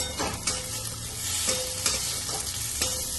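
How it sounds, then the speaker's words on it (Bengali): Potatoes with salt and turmeric frying in a little oil, a soft, close sizzle with repeated scraping stirs of the spatula at intervals. "নুন হলুদ দিয়ে দিয়ে অল্প তেল দিয়ে একটু নেড়ে চেড়ে ভাজছি এই আলু ভাজা"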